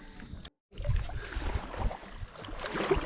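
Kayak paddle strokes on the Ichetucknee River in Florida, soft water splashes and drips recurring close by at an easy rhythm, with a brief silent gap near the start.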